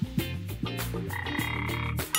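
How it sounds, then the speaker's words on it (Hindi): A frog croaks in a rapid series of deep, buzzy calls, close and fairly loud, with brief pauses between bursts. "हे, क्या तुमने सुना? मेंढक की आवाज लगती है।"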